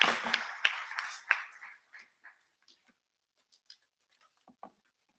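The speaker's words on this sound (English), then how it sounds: "Please join me in clapping for this panel." An audience claps for a discussion panel at a conference session, with a burst of applause at first that thins quickly to a few scattered claps and then stops.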